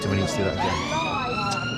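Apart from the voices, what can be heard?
police and ambulance sirens passing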